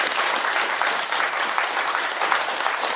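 Audience applause at an election forum welcoming candidates for president of the Korean regional self-sufficiency center association, a steady dense clapping that holds at even loudness for the whole stretch with no voices over it.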